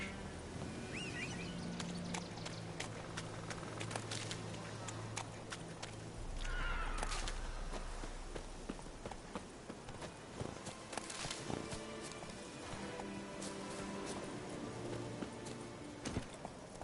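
Roach, a horse in a video game, neighs and whinnies over steady clip-clopping hooves, with a busy layer of game sound effects and music running underneath.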